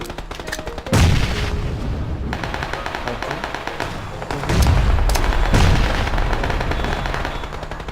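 Grenade blasts in PUBG (Battlegrounds), heard in a practice training area: loud, booming bursts hit at intervals over constant game noise and gunfire-like rumble.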